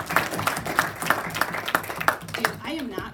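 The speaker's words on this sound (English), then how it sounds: "so a round of applause for them." A small audience claps for a table of Dutch Bros baristas, a short burst of rhythmic, fairly close hand claps that fades as a voice begins speaking.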